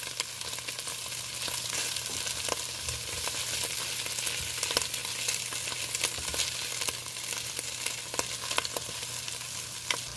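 Pieces of food fry in a pan with a steady, crackling sizzle and scattered sharper pops, close and continuous throughout, with no talking.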